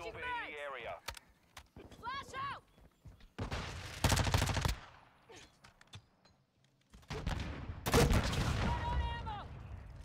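Bursts of automatic gunfire in a Call of Duty-style multiplayer shooter with a Lachmann Sub, broken up by loud game voice lines and a player talking over the action.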